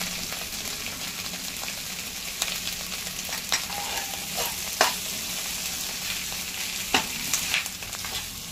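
Potatoes fry in ghee for sabudana khichdi with a continuous close sizzle, while occasional scrapes and clicks of stirring rise above it.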